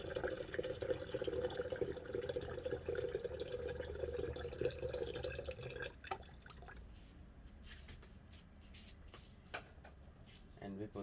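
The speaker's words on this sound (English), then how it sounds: "I always make sure I refill the water heater." Water being poured into a water heater to refill it: a steady trickling flow for several seconds, then scattered drips, light knocks and small clatters, with people talking.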